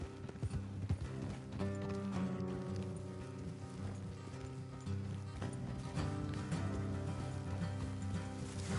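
Horse hooves clip-clop steadily at a walking pace in the video game Red Dead Redemption 2, quiet and partly buried under a droning musical background.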